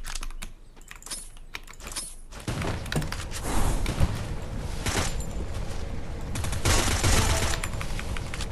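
Gunfire in the video game Free Fire, starting with light clicking and then breaking into sustained rapid automatic bursts, loud and close, with a few sharp peaks.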